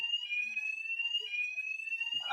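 Electronic fire alarm sounding in an emergency during a Nigerian TV show broadcast, a steady, continuous high-pitched tone held throughout with no talk over it, ending in a short burst of noise.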